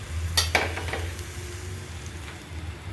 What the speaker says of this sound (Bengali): রসুন কুচিটাকে আমি একটু নেড়ে নিচ্ছি